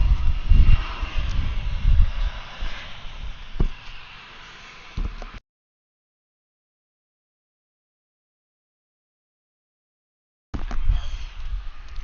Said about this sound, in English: Alright, here goes a CRJ.